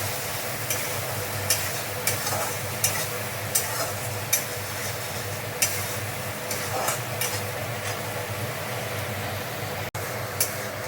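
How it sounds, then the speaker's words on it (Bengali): Continuous sizzle of spice paste frying in oil for a fish curry, punctuated by regular scraping strokes of a spoon stirring roughly every second. "মশলায় তেল ছেড়েছে, মানে মশলা ভাজা হয়ে গেছে"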